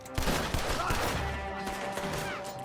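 Rapid bursts of gunfire in a Red Dead Redemption II shootout, cracking shots layered over each other through the short span with muffled voices mixed in.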